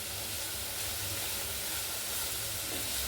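Pepper beef frying in a pan gives off a continuous, loud, even hiss with a soft steamy sizzle, steady from start to finish with no voices.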